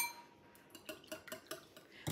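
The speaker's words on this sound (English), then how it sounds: "I'm going to take 4 eggs and 4 egg whites and whisk those" A whisk clinks against a bowl while 4 eggs and 4 egg whites are beaten for a Denver omelet, several quiet, evenly spaced metallic taps in an otherwise still kitchen.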